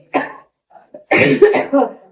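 A sharp cough bursts out, followed after a short pause by a rougher fit of coughing mixed with throat-clearing, close and loud, in a home kitchen.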